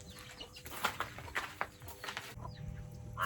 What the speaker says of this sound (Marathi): बाकीचे लगेच आता गावामध्ये चालल्यात कोंबड्या